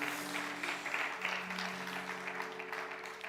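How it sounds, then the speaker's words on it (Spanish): A church congregation applauds during a sermon, a fairly quiet, even wash of clapping heard alone and at some distance, with a low steady hum underneath. "Dale un fuerte aplauso a Jesús en esta noche."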